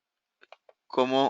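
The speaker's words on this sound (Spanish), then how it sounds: "Le doy doble clic para abrir." A computer mouse double-clicks to open a zip file, giving a few faint quick clicks before a louder tonal computer sound rises up close.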